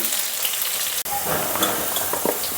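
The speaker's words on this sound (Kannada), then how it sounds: "ಸ್ವಲ್ಪ ಆಯಿಲ್ ಹಾಕಿದ್ದೀನಿ. ಬೆಂಡೆಕಾಯಿ ಹಾಕ್ತಾಯಿದ್ದೀನಿ." Okra frying in hot oil in a pan, a close and steady sizzle with some stirring noise and a brief break partway through.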